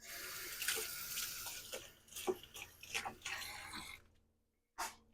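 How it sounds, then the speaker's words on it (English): Water pours from a tap into a basin with splashing and clattering, then stops briefly before a short final burst of running water. "Gonna run in water."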